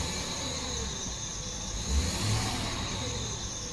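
A Jeep Grand Cherokee WJ engine with 230,925 miles, heard from inside the car idling after a fuel pump replacement, giving a steady, even hum with a brief swell in the middle, close and without talk.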